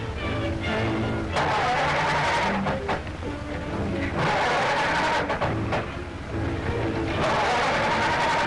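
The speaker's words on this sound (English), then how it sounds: "I can't seem to get my car started." An old 1930s car engine cranks and sputters in repeated bursts separated by brief pauses, never catching into a steady idle, heard close with faint background noise.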